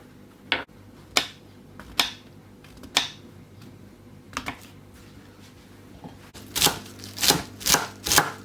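A knife slices mushrooms on a board in crisp, separate cuts, sparse at first and then quicker in a tight run of strokes near the end, close and clear with no speech.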